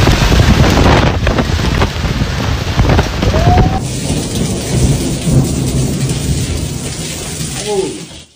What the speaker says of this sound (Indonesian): Badai petir pertama Phoenix pada musim monsun ini menyapu lembah pada Minggu malam.